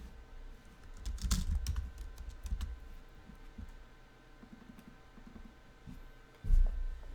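Mouse clicks and keyboard taps during an online blitz chess game, a scattered run of light, close clicks with short pauses between them and a slightly louder tap near the end.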